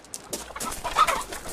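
A hen clucks close by in a short burst of several choppy, uneven calls, loud and alone with no talk over it.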